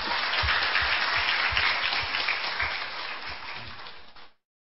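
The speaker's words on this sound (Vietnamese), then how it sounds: "phải tự vỗ tay mà khen mình" A crowd applauds steadily with dense clapping that fades gradually and then stops abruptly.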